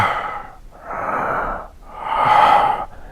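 A voice imitates heavy breathing: three slow, loud, close, raspy breaths that swell and fade, with short gaps between them.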